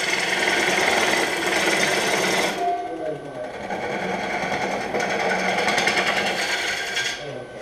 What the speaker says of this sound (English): And now I'm gonna flatten off this face.